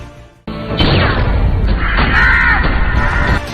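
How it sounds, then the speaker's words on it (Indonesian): A police officer's gunshot in a film action scene, a sharp loud crack near the start followed by a dense, sustained roaring burst of noise, no talk. "Seorang polisi melepas tembakan ke arah Bali"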